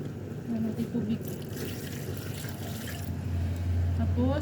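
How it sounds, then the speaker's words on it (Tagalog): Water from a tap runs and fills into a pot of bulalo, Filipino beef bone marrow soup with potatoes, a steady continuous splashing that swells louder toward the end, with a voice speaking over it. "Tapos dagdagan na lang natin tubig."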